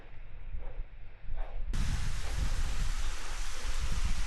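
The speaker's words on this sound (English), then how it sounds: "Been copping horizontal rain and just wind gusts, everything to the face." Wind-driven horizontal rain and gusts on a steep mountain hike, a muffled rush that abruptly swells into a loud, continuous roaring wash of wind and rain close to the mic.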